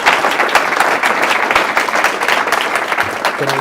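A crowd at an informal UX meetup in a bar applauds the first speaker, loud continuous clapping from many hands close by that begins to thin toward the end, where a voice briefly comes in.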